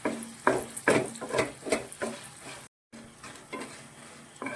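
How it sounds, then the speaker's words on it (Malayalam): Sun-dried curd chillies (kondattam) frying in oil in a pan, a quiet continuous sizzle broken by repeated rhythmic scrapes and stirs, with a brief cut to silence midway. "ഇതൊന്ന് ആദ്യം തന്നെ നമുക്കിതൊന്ന് വറുത്ത് കോരാം"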